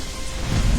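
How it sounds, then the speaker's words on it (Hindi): Heavy evening rain falling steadily, a dense close hiss with a low rumble swelling toward the end of the brief moment. "शाम को तेज बारिश होने लगी सो अलग।"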